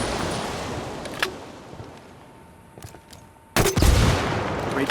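A frag grenade going off in Ghost Recon Wildlands, a sudden loud blast that rolls out into a sustained rumble, following quieter scattered background noise.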